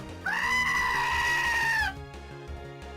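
Goats in a video game give one loud, drawn-out bleat that holds for over a second before cutting off, leaving only low background sound.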